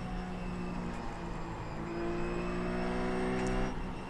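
A RUF C Spec race car engine hums in iRacing during a practice session, a close, steady mid-pitched drone that climbs slightly as throttle comes on, continuous and unaccompanied by speech.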